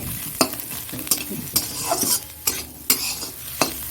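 A spatula stirs food frying in a pan, cooked until it looks like scrambled egg, with a background sizzle and about six sharp scraping clacks at irregular intervals, close and loud, with no talking.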